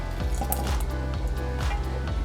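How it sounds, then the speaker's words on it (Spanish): Mesquite pulp juice poured into a pot of atole, giving wet, squishy splashes and drips over a steady low simmering rumble, close and continuous with no voices. "ahora sí le vamos a poner la pulpa del mezquite, el juguito, al atole"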